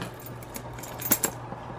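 A few metal keys jingle and clink close up as they are fitted onto a Louis Vuitton monogram four-key holder, with two brighter rattles standing out over low room noise.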